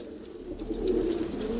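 Pure Punnu-line pigeons cooing close by, a low, soft, throaty burble that swells and holds steadily through the short stretch with no talk.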